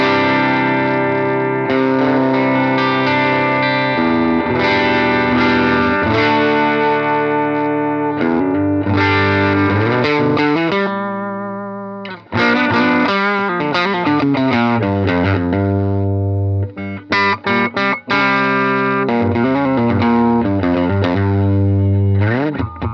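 Electric guitar played through a 5E3 tube amp with a negative-feedback mod, switch up, 1.5K bias resistor and cathode bypass cap: loud, gritty overdriven chords and single-note phrases ringing out, with brief pauses and no talking.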